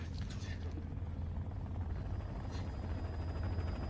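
A helicopter in the zombie film #Alive (2020) thumps with a steady, low rotor chop as it flies overhead, held at a fairly even level under faint background sounds.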